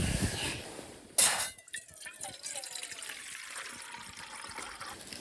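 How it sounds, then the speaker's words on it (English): Water poured into a pot on a small camping stove outdoors in arctic Lapland cold, a short splash and trickle with dripping that tapers off, fairly close and fairly quiet. "I'm gonna add some water now."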